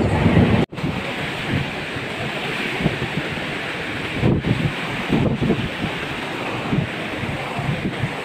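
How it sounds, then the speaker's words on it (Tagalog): Strong wind from Typhoon Kristine at Magallanes in Metro Manila roars steadily and loudly, close and dense like surf, with a brief dropout near the start and no talking. "malakas din ang hangin dito sa Magallanes"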